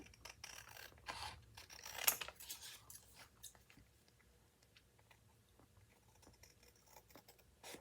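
Scissors cut out pieces of regular 32-pound photocopy paper for a micro mini journal, making soft irregular snips and rustles, close and quiet, with no talking.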